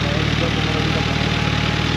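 New 2023 Suzuki Hayabusa superbike idling outdoors in the morning, a steady low rumbling engine hum close to the microphone, constant and unbroken throughout.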